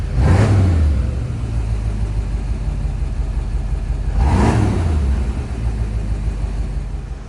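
A project truck engine runs steadily at idle, a continuous close mid-range rumble with two brief swells in revs near the start and middle, no talking.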